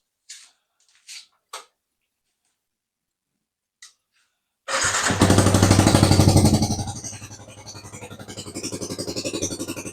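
A Yamaha Xabre 150 motorcycle engine fitted with a Dynavolt MG5ZS-C battery starts after a few short clicks and settles into a loud, close, steady running idle with a throaty rumble.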